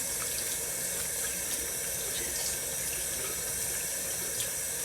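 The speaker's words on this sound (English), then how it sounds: "then I'm gonna turn the water on" Tap water runs steadily into a sink while makeup brushes are deep cleaned, a constant broadband rushing stream with faint splashes and no talking.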